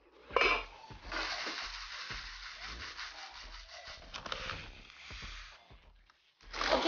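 Scraping and clattering of a metal cooking pot being handled and set down on a kitchen stove, with rubbing and knocks over several seconds, close by.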